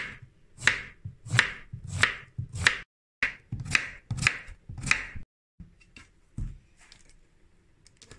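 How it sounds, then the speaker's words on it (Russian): A knife chops through zucchini on a cutting board, about a dozen crisp, evenly spaced thuds in a steady rhythm, close and clear, with a short pause midway and softer, scattered cuts toward the end. "изначально нам надо кабачок покрошить"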